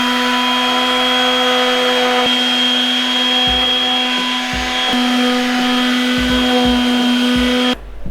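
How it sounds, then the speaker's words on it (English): An orbital sander with 120-grit sandpaper smooths a cutout in a camper cabinet. It makes a loud, steady motorized hum with a constant tonal whine and light scuffing bumps before it cuts off near the end. "I'm just going to finish everything off with a 120 grit on the orbital sander"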